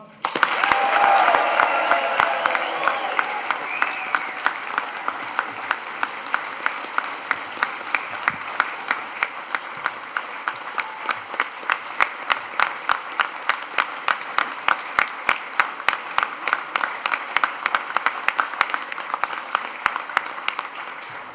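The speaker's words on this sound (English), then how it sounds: "let's raise the roof with a huge cheer and round of applause for our graduates" A graduation ceremony audience for the Institute of Education, Sport and Science breaks into a big cheer and sustained applause, dense clapping with shouts at the start, then steady clapping that continues evenly throughout.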